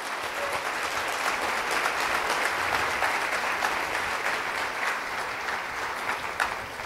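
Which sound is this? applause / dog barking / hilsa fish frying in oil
applause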